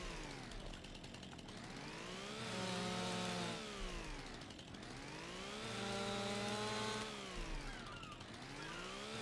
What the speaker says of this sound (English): This guy is like a professional chainsaw person.